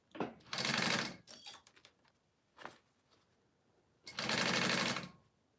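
A sewing machine runs in two loud bursts while basting fabric for a wallet, with quieter clicks and handling in between; no one speaks.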